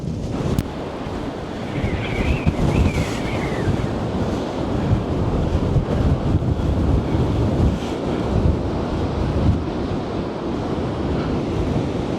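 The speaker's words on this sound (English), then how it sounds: "So the waves smashing up against it." Stormy high-tide waves smash against South Pier in Blackpool, a continuous loud surging roar of surf mixed with heavy wind buffeting the microphone, with no speech.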